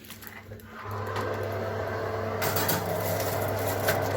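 A kitchen oven being set to 150 and switched on for a roast chicken, giving a steady low electric hum with a faint fan whir that starts a moment in and runs on without pause.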